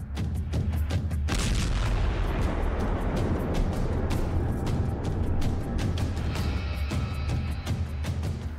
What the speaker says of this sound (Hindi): अचानक एक जोरदार धमाके का वीडियो भी इस लड़की के मोबाइल में रिकॉर्ड हो जाता है